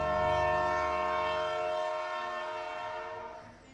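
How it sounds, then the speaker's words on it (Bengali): A train pulls out of a station after letting passengers off, opening with a loud, sustained horn blast that gives way to a fading rattling rumble as it moves away. "আমাদের স্টেশনে নামিয়ে স্টেশন কাঁপিয়ে ঝনঝন করে এগিয়ে চলল পরবর্তী গন্তব্যের দিকে"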